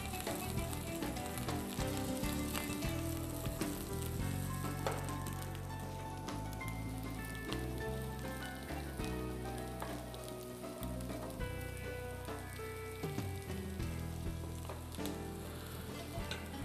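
Mushrooms fry in oil in a pan, a continuous sizzle with scattered clicks and scraping over a long stretch, steady and close, without speech.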